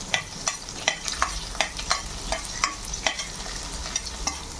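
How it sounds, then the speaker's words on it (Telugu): Garlic fries in hot ghee while a spoon scrapes and stirs the pan in a regular rhythm of sharp strokes over a steady background sizzle. The sound is close, with no one talking. "వెల్లుల్లిపాయలు వేసిన తర్వాత కలుపుకోవాలన్నమాట"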